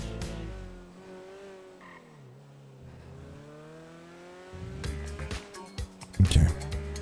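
A truck drives in the GTA V NoPixel roleplay game, its engine tone rising and falling through gear changes, moderately loud, ending in bursts of tire squeal and rough impact noises.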